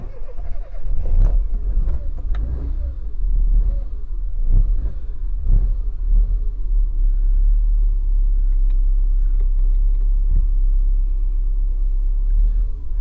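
An Austin Metro's engine idles steadily after a choke start, a loud low rumble throughout with a few sharper revs and knocks early on, no talk over it.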